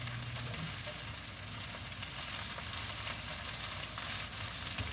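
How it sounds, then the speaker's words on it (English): Steady, soft sizzling of hash browns frying in a pan, a continuous crackly hiss without pauses and no voices. "It's sizzling."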